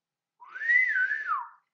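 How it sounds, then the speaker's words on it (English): A person whistles a single sustained, sliding tone that rises and then falls, lasting just over a second, clear and close with nothing else around it. "He whistled."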